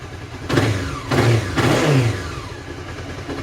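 A Honda CB 500 motorcycle engine revs up three times in quick succession with its rear wheel raised, each burst rising in pitch and then holding near and loud before settling back toward idle.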